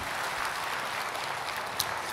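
A church congregation claps together, a dense, steady patter of many hands that lasts about two seconds with no talking.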